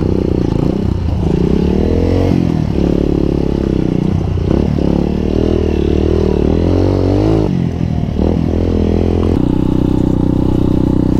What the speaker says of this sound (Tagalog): Malakas na ang motor ni Dogs.